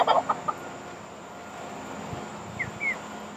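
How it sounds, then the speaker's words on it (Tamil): Chickens in a hillside neighbourhood park give a few short clucks right at the start, then fall mostly quiet over steady outdoor background noise, with faint chirps later. "நல்ல அழகாக இருக்குது இந்த கோழியை பார்க்குறதுக்கு"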